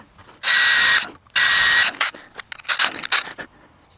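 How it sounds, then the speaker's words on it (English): A power drill bores pilot holes in wood for a DIY fishing rod rack. It runs in two steady, loud, high-pitched bursts of about half a second each, followed by scattered clicks and rattles as the work shifts. "Again, just going to drill a couple of pilot holes."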